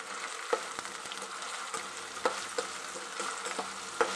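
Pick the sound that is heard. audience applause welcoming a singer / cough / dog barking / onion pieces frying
onion pieces frying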